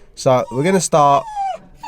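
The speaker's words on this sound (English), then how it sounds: "I've got a dog crying next to me." A dog whimpers and cries in short, high, whining yelps close by, and someone talks over the sounds.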